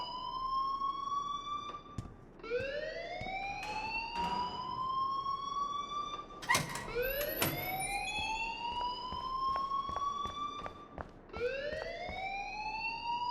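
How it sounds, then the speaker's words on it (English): A fire alarm in the Life is Strange video game wails in repeated rising sweeps, each lasting a few seconds, loud and continuous against a low background with a few clatters. "please turn off that alarm since that's your job"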